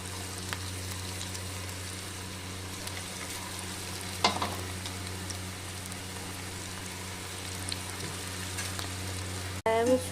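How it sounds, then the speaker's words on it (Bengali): Banana fritters frying in hot oil give a steady, close sizzle and crackle throughout, with a brief stir or clatter partway and a sharp knock near the end. "আমি সব পকোড়ি দিয়ে দিয়েছি। হালকা হালকা করে এবারে ভাজতে হবে।"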